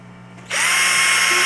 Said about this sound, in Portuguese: Aqui é uma furadeira fazendo serviço de outra